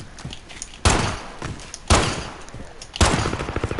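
Pistol shots in a video game, three sharp loud bangs spaced about a second apart, each with a short decaying tail, with faint background game noise between them.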